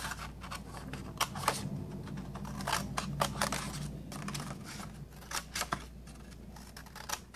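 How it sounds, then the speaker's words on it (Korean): Scissors snip through the corners of paper-covered foam board in a paper craft project for an octagonal assembly box, giving a string of crisp, close cuts and crunches at an irregular pace, with no talking. "모서리를 잘라주세요."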